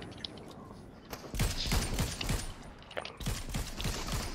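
Gunshots in an online video game, several sharp reports and short bursts from about 1.3 seconds on, fairly loud against a steady background of game ambience, with no one talking.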